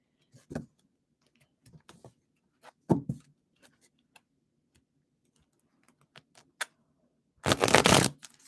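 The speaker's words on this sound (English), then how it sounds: "That was the worst shuffle in the history of the world." Scattered light clicks and taps of thin cards being handled, ending in a short, loud riffling burst of a riffle shuffle.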